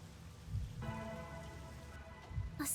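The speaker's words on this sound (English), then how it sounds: "It's a gentle rain," Gentle rain from the video game Rain Code falls in a steady, soft hiss with scattered droplet taps, alone and fairly quiet throughout.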